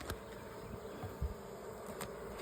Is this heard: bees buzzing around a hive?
yes